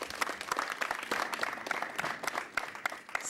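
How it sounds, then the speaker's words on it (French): An audience applauds the guest Sana Bob on a live aperitif show, brisk rhythmic clapping with distinct sharp hand strikes, sustained at moderate loudness for the whole stretch. "Sana Bob, que nous allons applaudir bien fort, s'il vous plaît"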